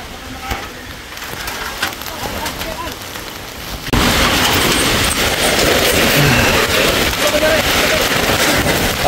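Strong typhoon rain and wind lashing a chicken farm, a loud broadband roar that surges abruptly louder midway and then stays heavy and constant.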